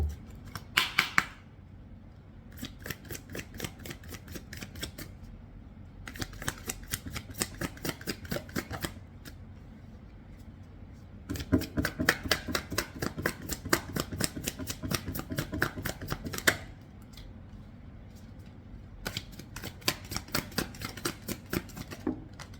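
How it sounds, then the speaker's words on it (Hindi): Tarot cards being shuffled, in several bursts of rapid riffling and flicking separated by brief pauses, close and fairly crisp. "पहले मैं शफलिंग कर लूँ।"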